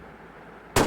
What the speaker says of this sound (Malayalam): വെടിവെപ്പ് എല്ലാം തുടങ്ങി.